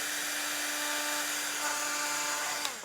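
A handheld heat embossing gun runs steadily on its second setting, giving a constant whirring fan hum with airy hiss, close and fairly loud, with no speech.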